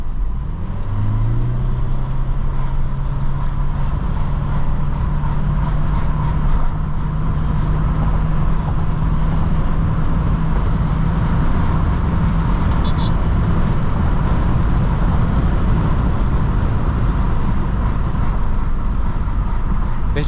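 A 2025 Toyota Corolla Cross with the 1.8-litre 2ZR-FX engine accelerates in power drive mode, a loud, steady engine drone rising in pitch over heavy road and cabin noise, heard from inside the car.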